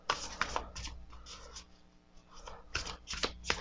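A matte cardstock oracle card deck from a botanical-themed set is shuffled by hand, giving repeated quick papery riffles and flutters in bursts, close and fairly soft, with no talking.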